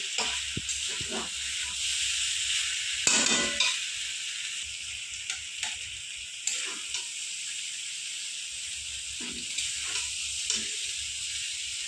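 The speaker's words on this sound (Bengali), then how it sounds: "আমি ওই তেলেই ভাজা ভাজা করে নিয়েছি" Small fish chorchori frying in oil in a pan, with a steady close sizzle and hiss and a few brief stirring knocks.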